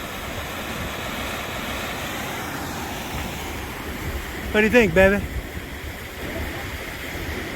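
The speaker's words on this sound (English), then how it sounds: "Nice little waterfall right at this second bridge." Steady rushing water from a small waterfall beside a trail bridge in the Emigrant Wilderness fills the whole stretch, with a man's brief spoken question rising over it midway.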